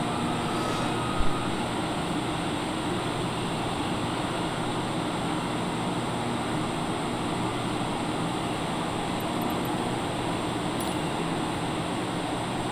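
A TBM930 single-engine turboprop on approach near Santa Barbara with the wheels just lowered: a steady, loud cockpit drone of engine and airflow, constant and unbroken, with a faint click near the start and no talking.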